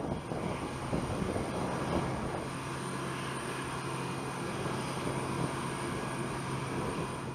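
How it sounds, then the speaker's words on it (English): Engines of a Boeing 747-8F freighter aircraft roar in a steady, broad, continuous rumble with a faint high whine, sounding at a moderate distance with no speech. "The F indicates this is the freighter version of the Boeing 747-8."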